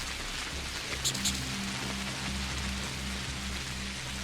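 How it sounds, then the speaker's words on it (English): Steady hiss of rain in the video game Pathologic, an even patter over a soft low rhythmic drone, with a couple of faint brief clicks and no voices. "enjoy the soothing sounds of the rain"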